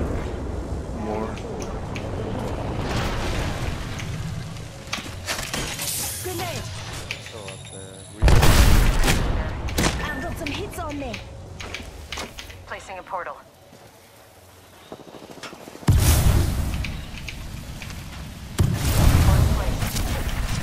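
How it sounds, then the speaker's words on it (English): A video game grenade goes off in several heavy, booming bursts over a player's voice, with sharp blasts standing out from the continuous talk. "They threw a grenade, I let it blow up the armor"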